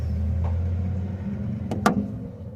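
A 3D printed suspension part snaps onto a main shaft with a couple of quick plastic clicks, the louder one near the end, over a steady low rumble.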